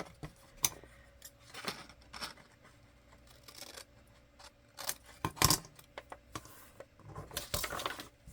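Scissors snip away excess paper or fabric while a policy envelope with a fabric pocket is made, giving quiet, scattered crisp cuts and faint rustling close by, with no talking.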